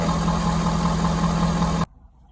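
A 2015 Ford 6.7 Powerstroke diesel with a no-oil-pressure problem idles close by in a steady, heavy rumble, then cuts out abruptly near the end, leaving faint background noise.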